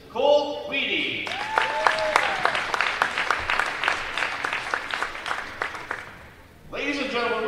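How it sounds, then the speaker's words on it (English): An audience at a high school basketball game applauds senior players and their parents, a sustained round of clapping with cheers, bracketed by an announcer's voice at the start and end. "give all of our seniors and their parents another round of applause"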